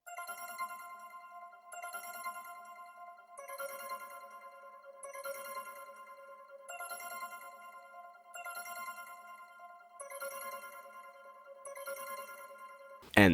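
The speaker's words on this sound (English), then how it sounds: "we got a bell sound from Nexus that is just doing like this arpeggiated pattern" A bell synth from the Nexus plugin plays an arpeggiated pattern in an FL Studio beat, repeating the same clear chiming phrase about every two seconds, soft and steady with no voices.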